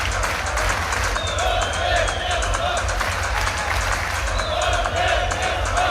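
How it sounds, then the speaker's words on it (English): A packed, hyped crowd at an MMA championship fills the arena with a steady roar of cheering and applause, loud and continuous throughout, with voices mixed into the din. "This crowd is so hyped"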